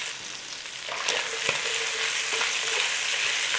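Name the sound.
chunks of lean beef searing in a pan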